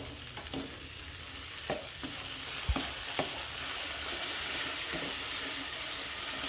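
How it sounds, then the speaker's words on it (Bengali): Giant river prawns in a Bengali poppy-seed posto masala are stirred in a frying pan, giving a steady close sizzle broken by scattered scraping knocks of the spatula. "এবার আমি এটা নেড়ে নিচ্ছি"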